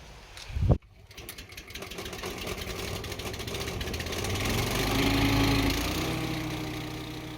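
A stump grinder chews into a tree stump in ground full of postcrete and flint, with a loud, rising mechanical roar that builds and holds steady after a brief sharp knock at the start.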